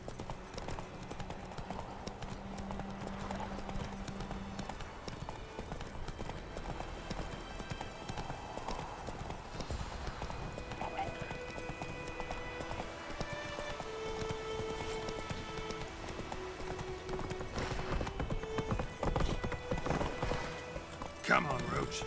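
Hooves of Roach, the horse in The Witcher 3, clip-clop steadily at a walk under quiet game ambience and music, moderately close and continuous throughout.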